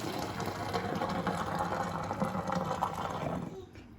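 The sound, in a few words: draining cooked noodles into a strainer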